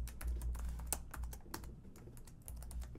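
Someone types a password on a computer keyboard with a quick, irregular run of close, crisp key clicks, with no talking.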